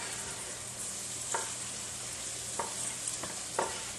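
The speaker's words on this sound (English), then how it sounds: "we're going to run these onions through that grease a little bit" Onions fry in bacon grease with a constant, even sizzle, while a handful of brief spatula scrapes push them around the pan.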